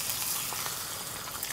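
An egg frying in a pan over lowered heat in a Thai countryside kitchen, giving a steady, close crackling sizzle that holds evenly throughout with no talk.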